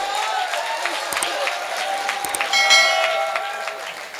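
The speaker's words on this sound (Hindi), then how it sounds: "ताली बजा।" An audience at a Hindi comic poetry gathering claps steadily and fills the room with dense applause that swells slightly near the end and keeps going throughout.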